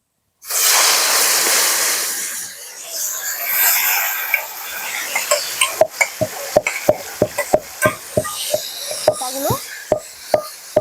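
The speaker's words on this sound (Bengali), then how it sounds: "তিন থেকে চার মিনিটের জন্য তেলের মধ্যে একটু ভেজে নেব" Elephant apple pieces drop into hot mustard oil with a loud burst of sizzling that settles into steady frying, then a series of sharp scraping stirs against the pan.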